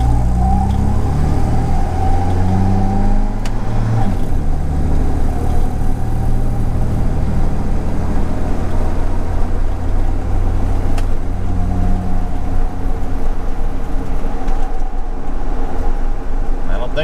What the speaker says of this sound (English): I'm going to lock it into low gear, and I'm just going to take off and let it shift normally